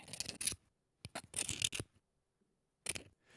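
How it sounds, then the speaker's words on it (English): Short bursts of dry, raspy scraping as a mold line is scraped off a model, a few strokes each, separated by silent pauses, close and quiet. "This is the sound of a mold line scraping."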